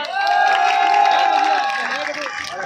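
Crowd at a political rally clapping and cheering, a dense sustained roar of applause with shouts and whoops mixed in, while a voice carries a long held tone over the noise.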